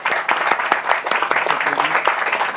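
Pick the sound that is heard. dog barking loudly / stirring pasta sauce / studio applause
studio applause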